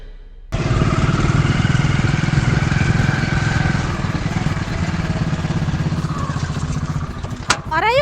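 A motorcycle engine starts abruptly and runs close and loud at a steady, throbbing idle for several seconds, with a brief clatter near the end.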